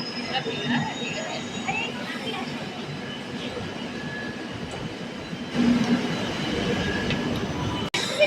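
A metro train rumbles and hisses steadily at Dakshineswar metro station, with a louder surge of noise partway through, and people can be heard speaking amid the din.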